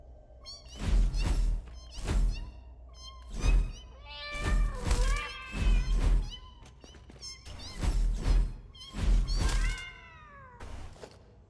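Spider creatures from the video game Satisfactory give off a run of about ten loud, whining, cat-like cries, each a short wavering yowl mixed with dull thumps, close and steady with no talking.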